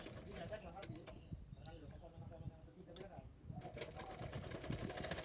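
A sewing machine stitching a katori blouse, its needle chattering in quick bursts that pause briefly in the middle and then resume, fairly quiet, with a faint ticking and a steady high whine running underneath.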